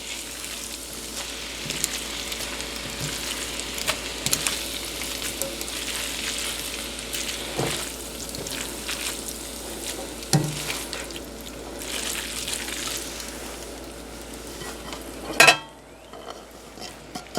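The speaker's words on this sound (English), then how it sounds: "Now we want to bring in the onions. Just mix them in." Onions stir-fried in a pan for chicken chow mein sizzle steadily and loudly up close, with occasional scraping and clinking from stirring and a sharp clatter near the end.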